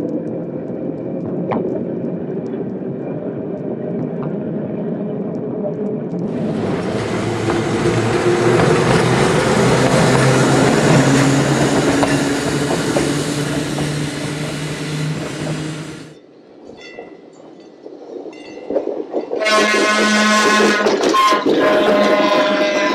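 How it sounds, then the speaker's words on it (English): A northbound two-car steel interurban train arrives and departs Kentfield, a rumbling rolling noise that swells into a loud, bright roar of wheels, drops away, then returns with ringing, tonal rail sounds. "A northbound 2-car steel train arrives and departs Kentfield."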